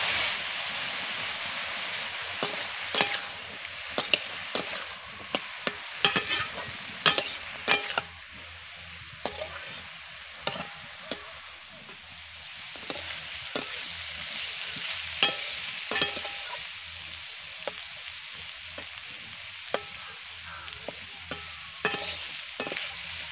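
Cashews frying in a pan for vegetable pulao, a close, steady oily sizzle broken by repeated sharp scraping stirs of a spoon against the pan throughout.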